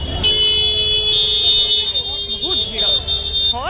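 A crowded street during Ganesh puja in Balasore, where a sustained electronic horn drones steadily, drops out briefly and returns, while people speak close by over the din.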